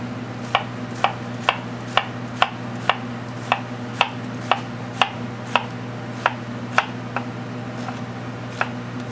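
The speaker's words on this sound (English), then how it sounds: "What I like to do with the onion is I like to slice it nice and thin." A knife slices an onion thinly on a cutting board, making a regular series of about sixteen crisp taps, evenly spaced and close, over a steady low background hum.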